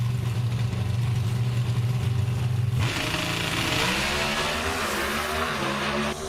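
An NHRA Pro Stock drag car at Denver sits at a loud, droning idle, then launches into a roaring, rising acceleration. The engine blasts close and then strains onward.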